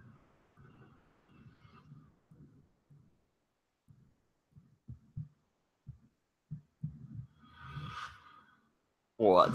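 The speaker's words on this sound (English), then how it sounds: "Listening for the heartbeat." A heartbeat effect from a Supergirl episode: faint, muffled low thumps pulse irregularly in near silence, ending in a brief louder rising sweep.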